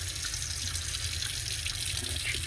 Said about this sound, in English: And then open a faucet